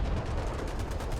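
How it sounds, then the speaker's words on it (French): A bomb explodes during a tank video game match, a dense, sustained rumbling blast heard loud and close with no voices over it. "Et la bombe qui a explosé juste là."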